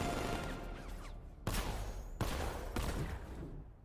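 A Batmobile's 60mm cannon in a Batman video game fires three heavy, booming shots roughly a second apart, each followed by a rumbling tail, over low background game ambience.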